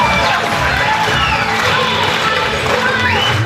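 A large crowd cheers and shouts loudly and continuously at an event in India, a dense roar of voices with scattered whoops.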